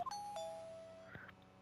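A two-tone electronic doorbell chime in the Phoenix Wright: Trials and Tribulations game, a quick ding-dong near the start followed by soft background music, no voices.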